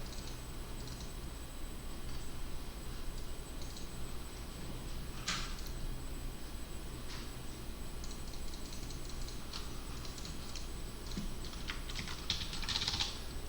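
Someone types steadily on a computer keyboard, a close, continuous patter of light key clicks with a few sharper strikes, over a low background hum.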